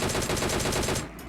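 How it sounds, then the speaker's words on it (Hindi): Rapid burst of DP machine gun fire in a battle royale shooter game, a steady stream of evenly spaced shots lasting about a second, close and loud, then cutting off abruptly. "हमने डीपी निकाली और पेल दिया उन दोनों को"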